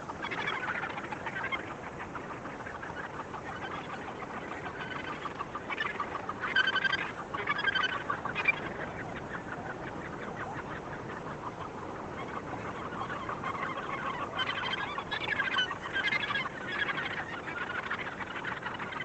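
Gannets at the Muriwai beach colony in New Zealand call and squabble over territory, a continuous chorus of harsh, clucking squawks with louder bursts of overlapping cries.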